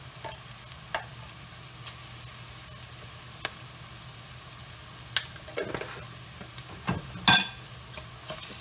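Spice masala with chili and turmeric powder frying in a pan, a soft, even background sizzle with scattered spatula clicks and a louder scrape near the end.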